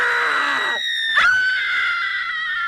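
A woman's high, piercing scream from a film scene rises, breaks off briefly, then returns as a sustained shriek, loud and close with no talking.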